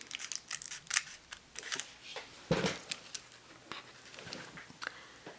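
Scissors snipping through fairy wing material close up, a run of quick crisp cuts with small pauses, quiet and alone.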